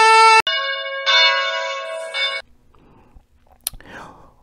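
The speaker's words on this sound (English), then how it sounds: "ring the bell" A bell rings out loud and close with bright, sustained tones in a few struck phases, then stops, leaving faint rustling and a short sharp click.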